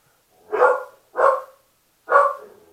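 A dog gives three sharp, separate barks spaced roughly half a second to a second apart, each loud and close with a short tail.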